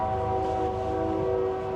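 A train passes near a truck camper parked on Market Plaza Road, a steady loud rumble with sustained horn-like tones running through it, alone without voices.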